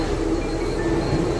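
A commuter train pulls into a station on a weekday morning, its loud, steady rumble of wheels and carriages filling the space up close with no voices.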